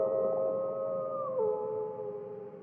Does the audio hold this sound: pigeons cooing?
no